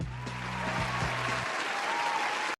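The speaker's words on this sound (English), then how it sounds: "You don't need to clap anymore." An audience claps during a live drawing session, dense applause that carries on steadily, with a low hum under it for the first half.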